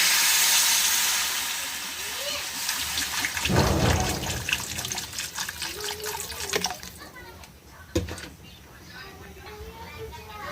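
Water pours into a cooking pot over potatoes, a broadband splashing rush that swells around the middle and continues under speech in a home kitchen.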